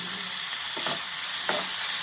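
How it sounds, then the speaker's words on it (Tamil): Curry leaves and green chillies sautéing in hot oil, a loud even sizzle with a couple of brief stirring scrapes. "இப்போ லைட்டாக வதக்கிக்கலாம். இப்போ கருவேப்பிலையும் பச்சை மிளகாவும் போட்டுக்கலாம்."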